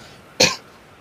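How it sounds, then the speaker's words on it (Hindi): A single short, loud cough close to the microphone, alone against a quiet background. "एक खांसी।"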